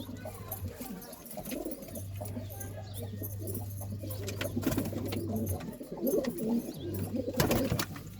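Pigeons coo repeatedly in low, throaty bursts, close by, with shuffling and a few rustles in between.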